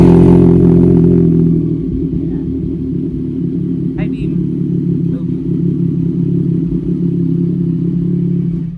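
A CFMOTO 675NK motorcycle engine idles loud and close, a deep steady rumble with a few light clicks and taps over it, holding fairly even throughout.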